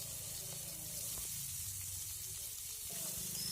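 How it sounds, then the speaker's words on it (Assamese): Green chilies and onions in hot oil in a wok give a soft, steady sizzle with faint stirring scrapes, heard close and quiet. "এনেকৈ 2 মিনিটমান সময় ভালদৰে লৰাই ভাজি থাকিম।"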